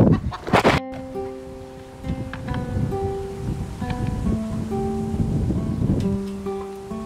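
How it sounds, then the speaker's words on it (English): A chicken loose in a garden clucks in short bursts, with a sharp louder clatter near the start, over steady outdoor background noise. "Now I've got to get a chicken out of the garden"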